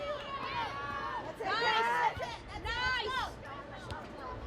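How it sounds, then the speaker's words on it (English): Spectators at a girls high school soccer game between Durfee and New Bedford cheer and chatter, with shouting voices rising and falling in waves and steady crowd hubbub throughout. "Crowd getting a little more into it here."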